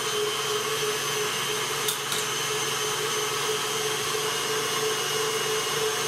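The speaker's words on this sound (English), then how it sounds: "we're going to cream it for a few minutes, or a few seconds really, with our mixer." An electric mixer creams buttercream frosting for an orange lemon chiffon cake, giving a steady, loud motor drone that runs without pause, with a couple of faint clicks partway through.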